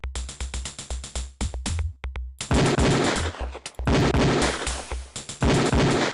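Gunfire at a shooting range in the video game Police Quest 4: rapid sharp shots in quick strings, then dense overlapping bursts, loud and close with no speech.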